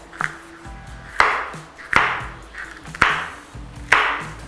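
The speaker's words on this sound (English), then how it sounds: "what I'm going to now do is chop up this beautiful capsicums" A knife chops capsicums on a board in five distinct, evenly spaced strokes, each a sharp knock followed by a brief ringing decay, close and clear with no talk.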